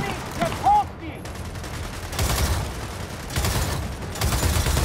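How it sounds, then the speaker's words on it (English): Turret gunfire rattles in Gears of War 4 in dense bursts, loud and sustained, with chaotic combat noise and brief vocal sounds mixed in. "use the turret"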